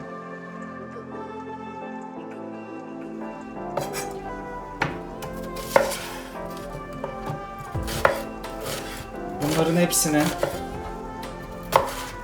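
Knife chopping vegetables for lahmacun on a board, irregular sharp strikes that grow busier and louder, with a brief quiet voice near the start.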